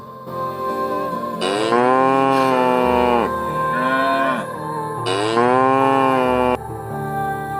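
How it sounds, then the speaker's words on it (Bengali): Cattle at a market moo loudly and close, two long drawn-out bellowing calls with a shorter one between, over a faint background hum and no talking. "আরে ফারদিন, হাটে তো এসে পড়ছি, চল একটা গরু নিয়ে যাই"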